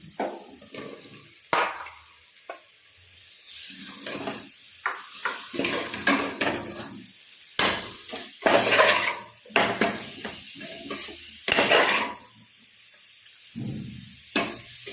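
A spoon stirs mushrooms into biryani masala in a metal pot, scraping and clinking in an irregular run of close strokes over a soft sizzle, with no talking.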